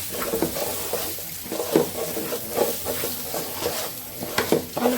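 Rice sizzles in a hot pan while a utensil scrapes and stirs it in repeated strokes, close and steady.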